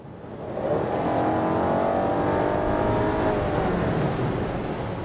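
A mid-sized sedan with a V6 or turbocharged engine accelerates on a test drive, its engine note rising and building to a steady, loud drone with audible gear changes, heard from inside the car without talk.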